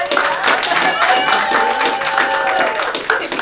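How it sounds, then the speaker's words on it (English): Audience applause for a contestant named Alicia at a military base singing competition, Fort Eustis, a steady wash of clapping with tonal music or voices running through it for several seconds. "Round of applause for Alicia."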